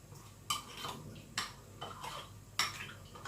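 A utensil clinks against a bowl or pot while bouillon is being stirred to dissolve it, three sharp taps and scrapes spread across a quiet kitchen background, near and fairly soft.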